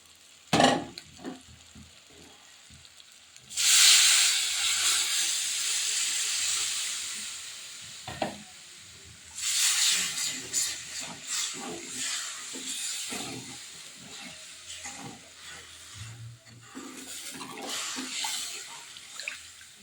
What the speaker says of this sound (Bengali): এই দেখো, আমার ঝোলটা কেমন ফুটে উঠেছে